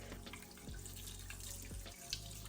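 Raw oxtail is rinsed under a steady stream of cool tap water in a kitchen sink, a soft continuous splashing with a few small drips.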